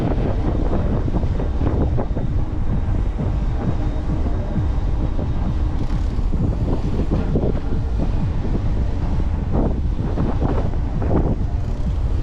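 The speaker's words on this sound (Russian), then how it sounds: "Зимой как раз самый сильный шторм," Strong winter storm wind buffets the microphone over crashing sea waves at the Black Sea shore near Sochi, a loud, continuous roar with repeated surges of surf and no voices.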